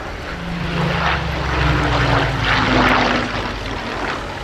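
Battle of Britain Memorial Flight Hurricane and Spitfire flying a display at the Royal International Air Tattoo, piston propeller engines droning loudly overhead with a rising and falling pitch as they pass, steady and uninterrupted.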